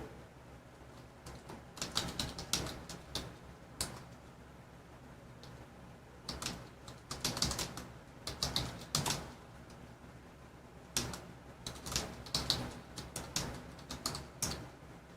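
Keyboard typing comes in irregular bursts of quick clicks, moderately close, separated by short pauses over a steady low background hum.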